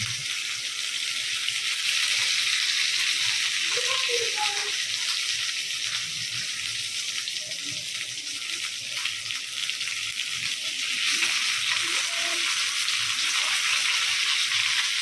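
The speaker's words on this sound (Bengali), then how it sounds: "পটল আলুটা কেটে ভাজতে বসিয়ে দিয়েছি" Sliced pointed gourd and potatoes frying in a pan, a steady, even sizzle that holds for the whole stretch, with faint kitchen clatter now and then.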